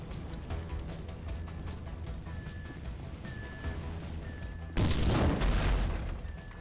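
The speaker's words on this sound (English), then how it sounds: "That explosion must have knocked me out, man." A loud, sudden blast erupts near the end, a broad roaring boom that stays heavy for about two seconds, following steady game background noise in GTA V.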